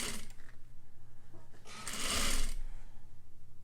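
A sewing machine stitches bias binding with a close, rhythmic pulsing hum, each stitch beat clearly audible, swelling briefly louder in the middle before settling back to its steady pace.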